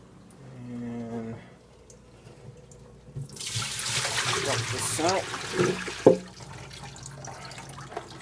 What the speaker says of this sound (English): Got my RODI unit running to do a water change.